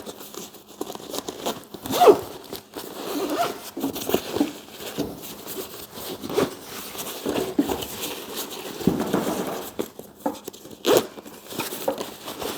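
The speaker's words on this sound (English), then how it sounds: "It looks like you can unzip this." Series of scratchy zipper pulls and fabric rustling as a small child's Jetkids by Stokke travel backpack is unzipped and handled, close and fairly quiet, with no talk.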